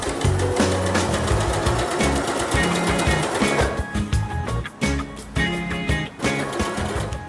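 A Skyline S5 domestic sewing machine stitches along a zipper, its needle mechanism chattering in a fast, steady run that pauses briefly and restarts several times, close and fairly loud with no talking.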